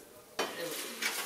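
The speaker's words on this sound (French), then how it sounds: "Je fais la vaisselle." Dishes, a bowl and cutlery clatter and scrape during washing up on a walking pilgrimage, a sudden clatter followed by a brief rattle, close and fairly quiet.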